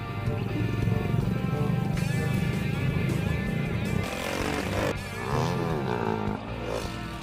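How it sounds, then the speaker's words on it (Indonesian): A toy motocross motorcycle sound effect: a continuous, raspy engine drone with shifting revs and rising whine-like sweeps in the second half, loud and close throughout. "Ada motor cross."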